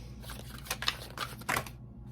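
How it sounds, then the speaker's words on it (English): A tarot card deck is shuffled close up, with a quick run of soft riffling flicks and papery slaps in irregular bursts before falling quiet at the end. "shuffle this deck"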